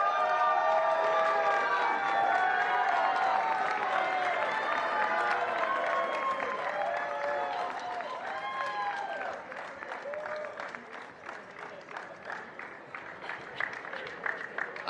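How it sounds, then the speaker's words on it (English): Applause and cheering from a crowd at a pickleball World Cup awards ceremony honoring the Women Fair Play Award winner, a dense sustained ovation with whistles and shouts that thins toward scattered clapping near the end. "A round of applause to Michelle Mann, who will take home the Women Fair Play Award."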